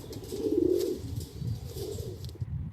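Domestic pigeons, including Madras and other fancy breeds, coo nearby in a soft, low, rolling murmur that swells and repeats over a few seconds, with no talk.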